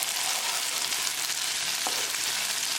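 Okra and sardines cook in a pan on a medium gas flame, with a steady close sizzle and faint stirring movement throughout.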